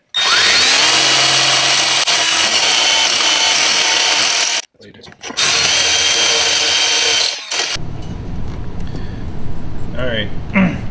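A power drill fitted with a step bit bores holes in a kayak hull, giving two long, loud, harsh grinding bursts separated by a brief pause, then a quieter stretch of handling and tool noise.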